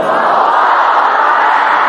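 A large seminar crowd shouting in unison, a loud sustained roar of many voices blending into one continuous chant, close and filling the space with no gaps.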